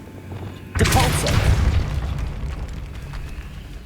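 A Depulso force spell cast in Hogwarts Legacy lands as a sudden loud booming burst that then fades into a lingering rumble, with nothing else over it.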